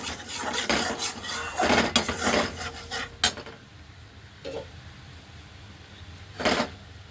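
A metal spoon scrapes and clinks against a pan while flour is stirred for a white sauce, with irregular bursts of scraping and a few sharper knocks between quieter pauses, close by and with no talking.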